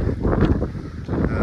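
Gusty outdoor wind buffeting the microphone, loud rumbling low roar that swells and dips over a second and a half, no talk.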